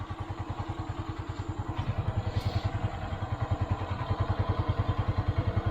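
A Honda TMX 125 Alpha motorcycle engine runs with a steady, close, thumping single-cylinder pulse, loud and even throughout with no talking.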